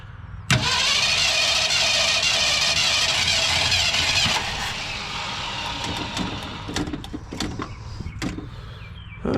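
A 1967 Ford Galaxie 500 with a bent push rod cranks loudly on the starter for several seconds, then catches and runs rough and uneven with sputtering pops, close by.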